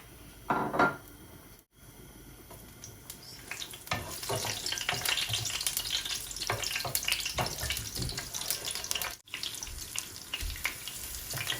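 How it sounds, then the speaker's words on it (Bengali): Bay leaf, cinnamon, clove, cardamom and star anise sizzle in hot oil while cooking a Bangladeshi radish and aair fish curry, a steady close crackle lasting most of the span after a brief opening clatter. "এখানে দেখো কা তেজপাতা দালচিনি লং এলাচ পরে স্টার সবগুলা ছোট ছোট করে আমি কাটিয়ে নিয়েছি দিলাম একসাথে"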